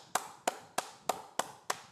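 Six sharp hand claps at an even, unhurried pace, each crisp and fairly close, with quiet gaps between them.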